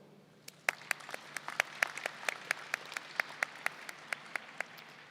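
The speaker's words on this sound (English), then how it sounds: "I think you deserve a round of applause as well." Sparse, scattered hand claps from a few people at a fall college of education commencement, about a dozen distinct faint claps in an uneven rhythm, heard alone.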